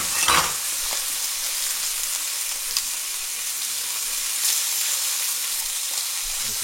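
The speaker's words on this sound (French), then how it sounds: "On les fait bien revenir." Pieces of lamb collar, salted and peppered, browning in a hot pan with a steady, even sizzle, a few brief louder crackles and a stir or two, no voices over it.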